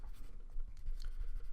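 Pencil scratching on paper while sketching, soft steady strokes with light irregular scraping, close and quiet, with no talk.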